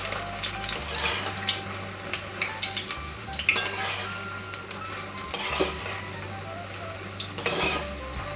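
Chicken kofta balls fry in hot oil over lowered gas, a steady close sizzle with bursts of spatter and scattered clinks of a utensil turning them one by one.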